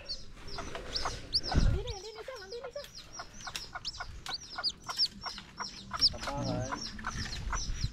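A chicken clucks in a rapid series of short, close calls, with other fowl chattering nearby and a person speaking in between.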